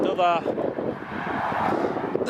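An aircraft flies over near Newcastle Airport, heard as a distant, steady broadband roar mixed with wind noise on the microphone, with a brief voice at the very start.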